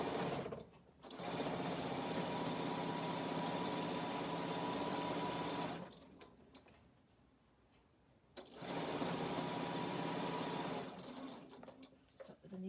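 Close by, a sewing machine stitches a fabric motorhome in long steady runs of whirring, pausing for a few seconds midway before starting again, with a soft voice faintly present.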